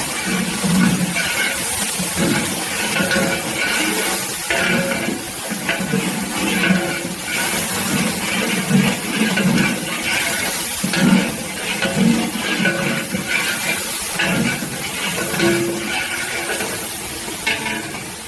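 Water splashes into a large pot of frying green chillies and garlic for a 7 kg mutton biryani, giving a steady loud sizzle with stirring and clatter of utensils throughout, no talk.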